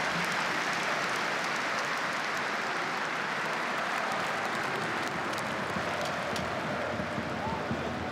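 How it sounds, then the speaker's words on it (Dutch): A stadium crowd applauds steadily for emergency responders before a FC Utrecht versus Go Ahead Eagles football match, a dense, continuous wash of clapping heard from within the stands. "alle hulpverleners worden daarbij met applaus bedankt"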